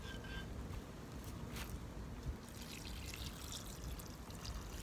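Water poured over washed prunes for a tagine, a soft continuous splashing pour lasting several seconds, close and fairly quiet with no talking.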